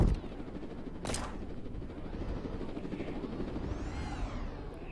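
A helicopter in a video game police chase involving a Chevrolet Camaro, heard as a steady rotor drone beneath a burst of gunfire and sweeping engine noise, fairly loud and continuous.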